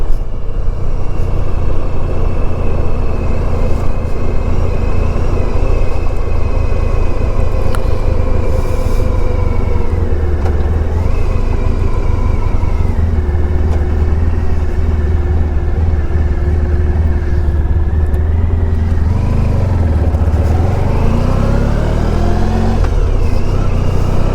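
A 1994 Honda ST1100 touring motorcycle hums along on a ride through Calverton and Riverhead, its engine droning steadily with pitch rising and falling as it speeds up and slows, over constant road and wind noise.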